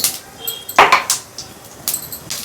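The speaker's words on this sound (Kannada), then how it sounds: "ಎಣ್ಣೆ ಕಾಯ್ದಿದೆ ಸಾಸಿವೆ ಹಾಕ್ತಾಯಿದ್ದೀನಿ ಒಂದು ಸ್ಪೂನ್ ಸಾಸಿವೆ" Mustard seeds, a spoonful, tipped into hot oil in a pan, giving a few scattered light clinks and faint crackles, with one brighter burst near the middle and another toward the end, close and fairly quiet.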